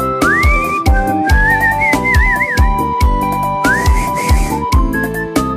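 A person whistles a sliding, wavering melody along with a Brazilian seresta song, the clear whistle riding above a steady rhythmic backing track with bass and keyboard.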